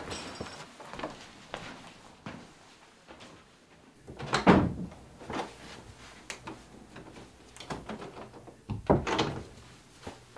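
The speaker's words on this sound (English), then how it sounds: "Someone's at the door." Door sounds as someone arrives at a Thanksgiving gathering: a series of knocks and thunks at varying loudness over quiet room noise, with a few heavier bumps mixed in.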